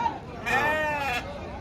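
A single drawn-out sheep bleat, wavering and fairly close, rising over a low murmur of background voices and farmyard noise at a sheep market.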